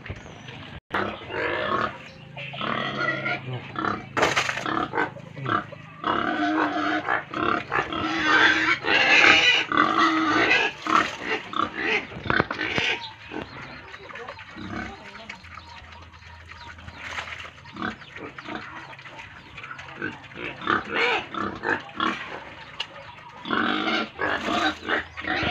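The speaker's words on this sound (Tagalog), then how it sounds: "Pakain na lang, baboy!" Pigs at a rural backyard pen eating coconut pulp left over from pressing coconut milk, with close grunting, snuffling and wet chewing noises going on steadily throughout.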